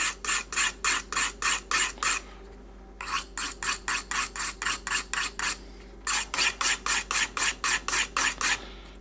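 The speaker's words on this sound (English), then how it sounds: "Okay, that's definitely removing some metal off the knife quickly." A kitchen knife being sharpened on a whetstone to remove metal, heard as three bursts of quick, even rasping strokes, roughly eight per set, with short pauses between sets, close and clear.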